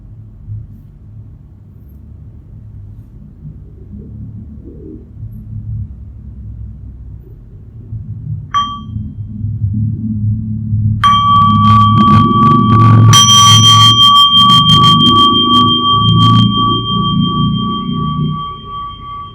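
A small meditation bell is struck twice, first a brief soft tap, then a clear ringing strike that sustains for several seconds, heard over a low background rumble in a quiet room.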